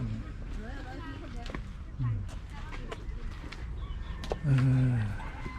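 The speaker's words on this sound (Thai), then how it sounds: "มีไก่นะฮะ" Chickens cluck and a rooster crows on a grape farm while people talk nearby.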